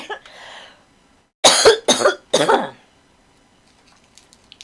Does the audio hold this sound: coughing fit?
yes